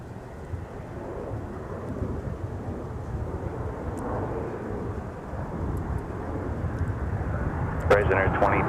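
Jet airliner departing the north parallel runway at Minneapolis airport, a broad, steady distant roar that builds slightly toward the end, with faint talk and clicks over it.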